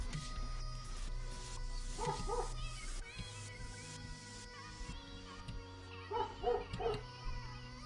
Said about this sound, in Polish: Oczywiście pies jak zwykle szczeka, kurde.